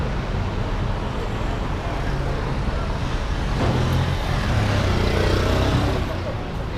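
Street traffic in the historic center of Cuenca, a constant broadband wash of passing cars and engines heard while walking, steady and moderately loud with a slight swell as a vehicle passes near, a voice talking over it.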